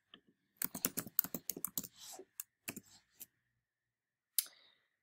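Fingers type a short burst of quick, crisp keystrokes on a computer keyboard, entering a search on Google, followed by a few isolated clicks and a final tap after a brief pause, close and clear in a quiet room.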